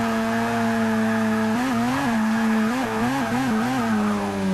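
A low-horsepower rotary engine car bogs in fourth gear at a track's stadium corner, its steady buzzing drone wavering and stumbling in pitch as it struggles to pull, loud and close throughout.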